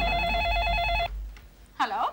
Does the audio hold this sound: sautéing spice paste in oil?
no